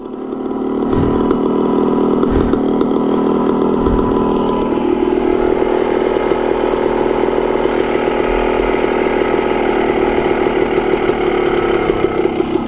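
A motorcycle engine idles steadily and loud at high elevation, running rich, with a low rumbling pulse, a few sharper blips early on, and the idle dropping slightly partway through; no one speaks over it.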